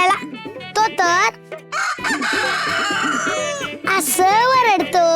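A rooster crows loudly and close in a household scene, its rising and falling calls repeating among and overlapping with people talking.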